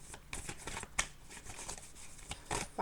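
Tarot cards shuffled by hand and drawn from the deck, a run of soft papery riffles and flicks with a few sharper slaps, close and fairly quiet, with no talking.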